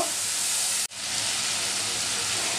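Spices with turmeric and red chili powder fry in hot oil in a pan, giving a continuous bright hiss and sizzle that cuts out for an instant near the start and then carries on steadily without speech.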